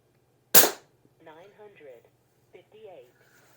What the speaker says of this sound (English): I'm going to be shooting at the top left-hand target. And let's take 5 shots and see how we do.